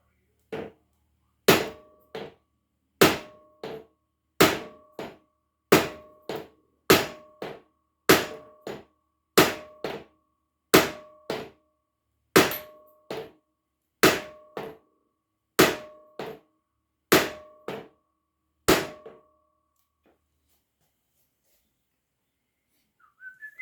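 Hammer blows ring out against a vintage 1952 Scott Atwater 7.5 hp outboard motor, about fifteen loud, evenly spaced metallic clangs with a ringing tone, close up, then silence.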